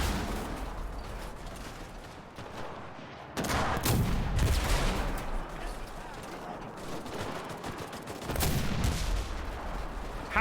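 Gunfire in the World War II shooter game Enlisted, with dense bursts of shots and booming blasts layered over a continuous battle din, loud and close, some bursts hitting harder than others.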